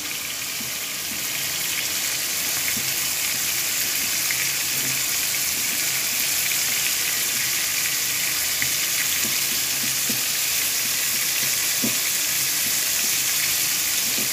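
A floured pollock fillet fries in a pan, giving a continuous, fairly loud sizzle with a few small pops and crackles. No one speaks.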